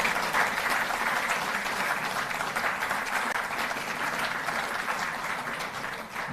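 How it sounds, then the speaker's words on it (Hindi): Steady, dense applause from a large crowd fills the whole stretch, loud and continuous with no pauses. "जोरदार तालियों से हम सहभागी बने सब।"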